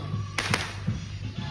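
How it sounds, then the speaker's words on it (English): Fireworks at a Juneteenth celebration go off outdoors in two quick sharp cracks followed by a few dull distant thumps, moderately loud against a steady background hum. "Look at the fireworks."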